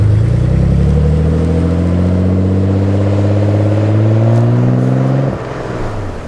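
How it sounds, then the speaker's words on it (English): A twin-turbo Nissan 300ZX with a full HKS Hi-Power exhaust revs in a deep, beefy drone, holding steady rising notes at close range before the revs drop off near the end. "It's not the loudest car, but I love how beefy it sounds."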